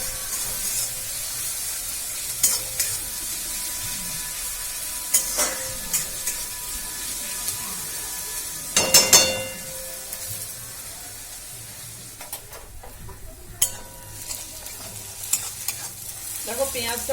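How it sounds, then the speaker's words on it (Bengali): Onions frying in oil in a pan for Bihari chicken curry, with a steady close sizzle and repeated scraping stirs and occasional louder bursts of spatter. "পেঁয়াজটা একটু লাল করে ভেজে নিই।"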